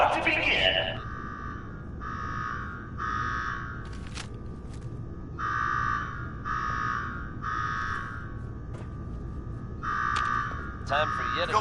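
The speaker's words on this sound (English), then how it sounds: "Now go shut off that damn alarm." A synthetic electronic alarm in the video game Fallout 4 buzzes in repeated pulses with short gaps, steady and fairly loud over a low background rumble.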